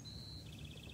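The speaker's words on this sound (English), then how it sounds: "Hear the birds singing behind me?" Birds singing outdoors on a summer morning: a thin, high whistled note held steadily, then breaking into a quick run of repeated chirps, faint and set against a low background hum.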